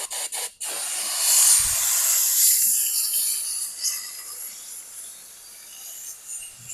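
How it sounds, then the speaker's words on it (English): A steam cleaner hisses steadily as it steams the cracks and crevices of a 1966 Chevy Impala's seat. The spray is loud and close, with a few clicks at the start, and it fades gradually. "we're steaming these cracks and crevices to start"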